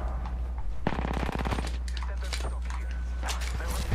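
An R-99 submachine gun in Apex Legends rattles off rapid, close, loud automatic bursts with brief gaps, while a player talks over the shooting.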